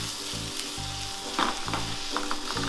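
Ground pork for old-fashioned empanadas sizzles in a hot pan, a loud steady crackling fry with a few stirring scrapes partway through and no talk.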